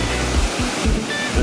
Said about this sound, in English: Well, it didn't take long to find, but here it is. It's a waterfall,